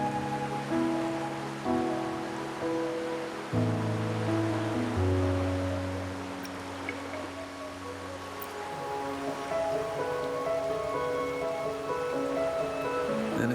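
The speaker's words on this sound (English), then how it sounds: "Or are you simply passing the time until the rain ends?" Steady rain falls in the Wuthering Waves video game, a soft continuous patter under calm sustained background music, with no talking.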